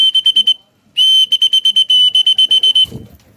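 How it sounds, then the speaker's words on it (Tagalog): A sharp, high whistle blown in rapid bursts to call pigeons into the loft: a short run of quick toots, a brief pause, then a longer series of staccato blasts, loud and close, ending with faint rustling. "So pito na tayo mga kalapatids, tanghali na para magsipasok na to"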